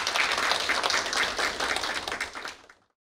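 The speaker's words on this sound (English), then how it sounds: "Please give a big round of applause to Professor Junseok Hwang and Mrs. Janina Anderson" A summit audience applauds steadily at close range for a few seconds before the clapping cuts off abruptly, with no voices over it.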